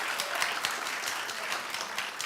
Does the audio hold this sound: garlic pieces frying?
no